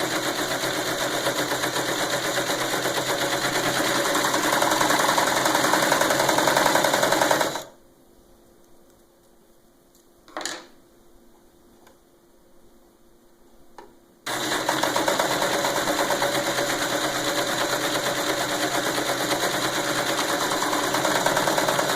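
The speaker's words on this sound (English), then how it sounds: "Now we're going to serge the two long sides of your little piece." Serger sewing machine stitching along the long sides of a canvas piece, a loud steady whirring run that stops for several seconds with a single click, then resumes just as loud.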